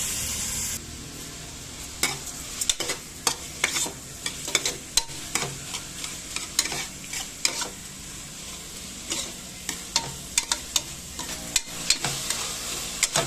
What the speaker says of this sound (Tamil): கொஞ்சம் நல்லா கேரட்டு தக்காளியெல்லாம் நல்லா வணங்கட்டுன்னு